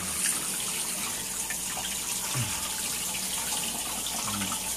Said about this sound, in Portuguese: Vamos tomar um banho?